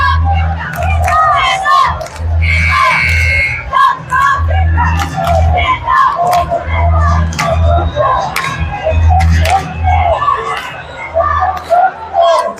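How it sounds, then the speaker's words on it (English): Cheer squads at a girls' basketball game chanting and yelling for both sides, loud rhythmic crowd cheering in a gym with a steady low drone underneath, continuous and energetic throughout. "cheer squads working the spirit for both sides here at this game"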